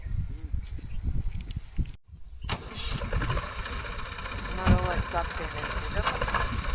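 A heavy tractor engine rumbles steadily, loud and close, with a brief drop in sound partway through before the motor noise returns.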